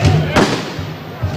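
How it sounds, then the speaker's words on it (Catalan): A firecracker whip bursts with one sharp, loud crack amid the crowd and voices of the La Patum street festival in Berga, 2007. "Esclata el primer fuet."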